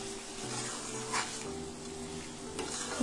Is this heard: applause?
no